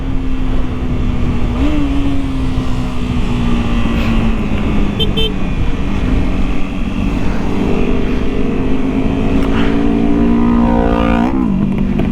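A loud Yamaha R25 motorcycle engine drones steadily nearby amid street traffic, its pitch rising and falling as it revs, with a brief honk partway through.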